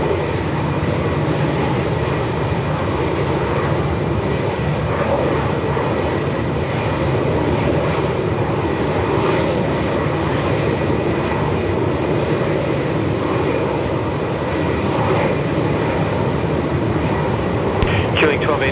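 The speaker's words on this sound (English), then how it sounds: "this is Jetstar 655 coming in from Canberra this afternoon" A Jetstar airliner arriving from Canberra at Melbourne Airport in strong wind gives a loud, sustained engine roar that holds steady throughout, with wind noise mixed in.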